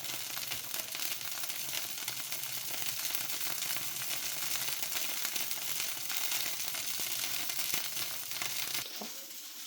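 Oil sizzling steadily in a pan while masala egg dosa is being made, a continuous, fairly quiet crackling hiss that runs evenly throughout and drops away abruptly at the very end.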